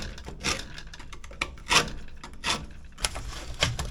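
A screwdriver scrapes and pries at plastic evap canister connectors on a 2007 Jeep Wrangler JKU, giving several short, close scraping rasps spaced irregularly over quiet workshop background, with no talking.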